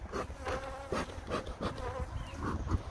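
Honey bees buzzing around an opened hive on a winter day, a steady, dense drone close to the ear with individual bees passing by, continuous throughout, no talking.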